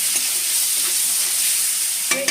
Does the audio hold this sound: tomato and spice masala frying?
yes